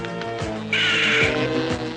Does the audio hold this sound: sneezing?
no